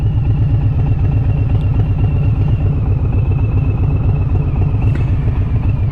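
A 2021 Harley-Davidson Softail Standard motorcycle runs at a steady, loud, close-up rumble, its V-twin engine pulsing in an even, throbbing rhythm without a break, with no talk over it.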